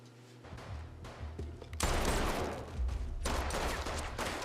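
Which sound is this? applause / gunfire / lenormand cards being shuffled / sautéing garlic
gunfire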